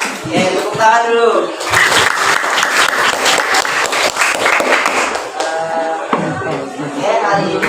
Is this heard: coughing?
no